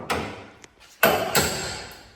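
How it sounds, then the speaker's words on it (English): A hammer strikes a chisel on a metal racecar shell, giving a few sharp close taps: one light hit, then two louder blows in quick succession. "take your hammer and chisel."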